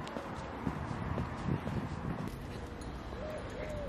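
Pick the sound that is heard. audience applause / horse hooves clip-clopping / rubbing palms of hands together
horse hooves clip-clopping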